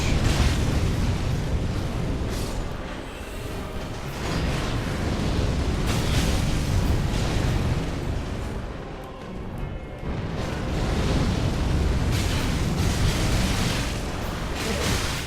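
A boss in Dark Souls III breathes fire, a loud continuous roaring blast with swelling, rumbling bursts that runs on for many seconds, dipping briefly before surging again.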